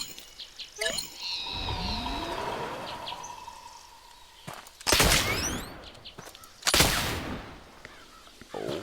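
Gunshots in the Oregon Trail video game, a few sharp bursts spaced apart, with chirpy bird-like game sounds and tones in between, fairly loud and close with no talk over them.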